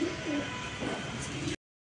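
A racing pigeon coos softly in a few low, rolling murmurs, close by and fairly quiet, with faint background hiss before the sound cuts off abruptly.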